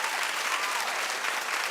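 A studio audience at a talk show claps in a brief, dense burst of applause.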